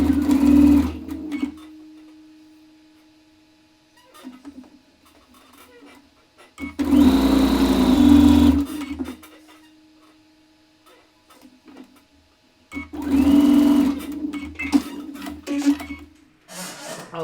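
A domestic sewing machine joins quilt rows together in three bursts of steady whirring stitching, separated by quiet pauses with small handling noises.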